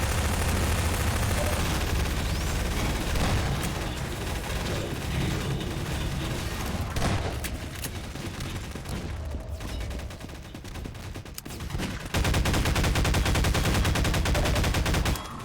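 Rapid automatic gunfire and explosive bursts crackle through a Source engine multiplayer shooter match, loud and nearly continuous, with brief lulls and a renewed barrage near the end.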